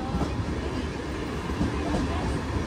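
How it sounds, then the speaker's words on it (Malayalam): Kakinada Port Circar Express pulling into Chengalpattu Junction railway station, a steady, loud, continuous rumble of rolling wheels and carriages with broadband noise throughout and no clear breaks. "ചെങ്കൽപ്പട്ടു ജംഗ്ഷൻ റെയിൽവേ സ്റ്റേഷനിൽ വണ്ടി എത്തി."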